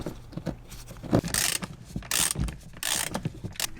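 A ratchet fits the rear bolts on a Grand Caravan third-row seat, giving several short, close bursts of rapid clicking separated by brief pauses.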